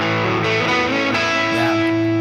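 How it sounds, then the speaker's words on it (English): Overdriven electric guitar runs through a Line 6 Pod Express tube screamer setting, with a few sustained, saturated notes ringing and bending over about two seconds. "when you go to the overdrive one, this guy right here, that's a tube screamer"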